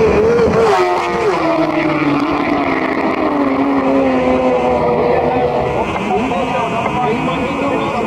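Superbikes race past at the Creg during the 2018 TT Superbike race, engines screaming and sweeping down in pitch as they pass, loud and continuous under a commentator's voice.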